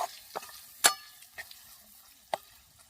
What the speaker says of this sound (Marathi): आता मसाले पण टाकून सगळे मिक्स होते